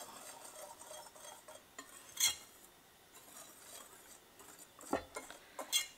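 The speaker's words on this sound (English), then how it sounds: "what I want to do is just stir those in because I want them well mixed" Utensil stirring ingredients together in a bowl, with soft scraping and a few sharp clinks against the bowl, heard faintly and close with no talking.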